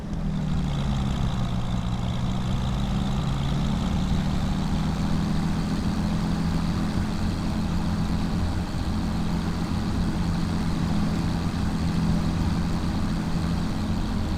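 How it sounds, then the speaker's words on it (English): A diesel tractor engine runs continuously with a deep, steady drone and a slight waver in pitch, loud and close, with no voices. "And the sound of this tractor."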